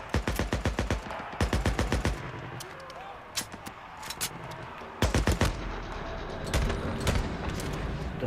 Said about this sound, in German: Das war, glaube ich, ein Kopfschuss.